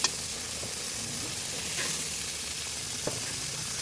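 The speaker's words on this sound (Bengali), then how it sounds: "মাছটা কষানো হয়ে গেল, দিয়ে দেবো গরম জল" Fish curry frying in a pan after hot water is poured in, a steady close hiss and bubbling sizzle with a few faint knocks of a utensil and no talking.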